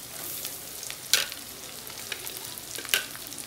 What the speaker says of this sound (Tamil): கேபேஜ் இதெல்லாமே ஆட் பண்ணி இதையும் லைட்டாக வதங்குற அளவுக்கு மட்டும் நம்ம வதக்கி எடுத்துக்கலாம்